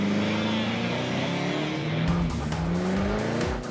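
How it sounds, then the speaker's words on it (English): A taxi spinning its bald rear tires in a burnout, a loud sustained tire squeal over a revving engine, with a rougher, harsher scrubbing screech in the second half. "Tori lays down some rubber."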